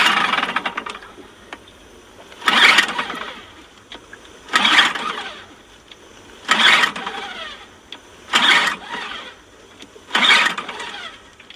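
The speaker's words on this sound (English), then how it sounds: "He gets into his boat and he tries to start it up." A boat engine is cranked again and again without catching: six evenly spaced bursts of starter grinding, each about a second long, separated by quiet gaps.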